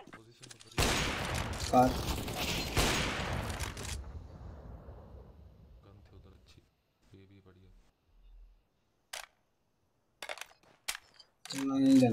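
Gunshots from CS:GO gameplay ring out in a loud burst of rapid fire over the first few seconds, then fade into sparse, quieter clicks and thumps while someone talks intermittently.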